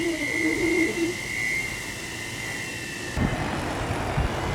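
A 100% solar-powered quadcopter drone with no onboard battery flying on a windy day, its steady whirring motor drone carrying a sustained tonal whine, with wind noise underneath and a few bumps near the end.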